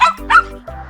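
A dog gives two quick, close barks followed by a short yip, loud and clear with nobody talking.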